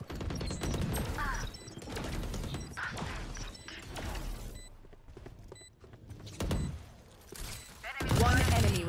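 Grenade blast and gunfire in the tactical shooter Valorant, a dense run of bursts and impacts spread across the clip over a steady game backdrop, with a loud crash near the end.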